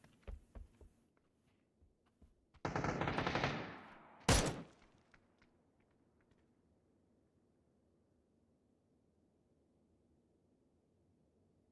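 Gunfire in the video game Backpack Battles: a few scattered single shots, then a dense burst of rapid fire lasting about a second and a half, followed by one sharp loud blast, then near silence.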